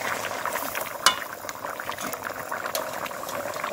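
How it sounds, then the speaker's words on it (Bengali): Desi chicken curry gravy with ground garam masala bubbling in a pot, a steady close simmer with dense popping bubbles and one sharp utensil clink near the start, no voices. "গরম মশলাটা দিয়ে আমি 1 মিনিট ফুটিয়ে নামিয়ে নেব।"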